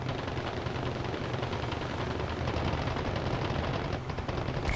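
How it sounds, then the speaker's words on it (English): Aircraft .50 caliber machine guns in War Thunder Mobile air battles, fired as a steady, rapid, continuous stream over engine drone, loud and close, briefly easing near the end. "This aircraft has 50 caliber machine guns."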